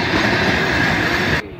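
A train rolls along the rails in a dense, steady roar of wheel clatter and rumble heard up close, with no voices, and the sound drops away sharply just before the end.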